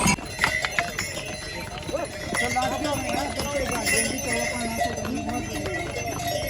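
Pack mules clip-clopping along the stone path of the Kedarnath trek in September, a steady patter of hooves under voices and outdoor bustle, with a bell faintly jingling.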